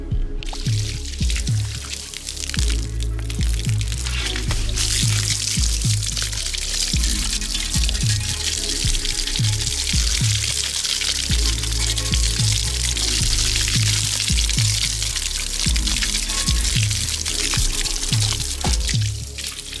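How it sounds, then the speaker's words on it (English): Water from a hose sprays a Volkswagen MK4 Jetta in a steady loud hiss, splashing and pattering against the car with shifting intensity, interrupted by a few brief bursts. "now let's get the water and spray her down"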